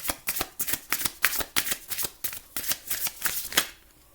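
Tarot cards are shuffled in a quick run of about a dozen crisp riffling bursts, close and clear, with no talking.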